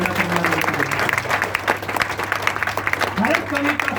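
An audience claps for a young poet at a poetry gathering, a dense round of applause with a low steady hum beneath and voices talking through it.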